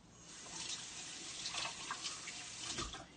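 Water from a kitchen tap splashes steadily over a spoon while it is rinsed, a continuous hissing stream with small spattering variations, fairly quiet and close, with no talking.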